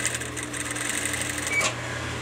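A sewing machine runs steadily, stitching fabric for a neck pillow as the material is turned around a curve, its rapid mechanical whir continuing close and even before briefly dipping near the end.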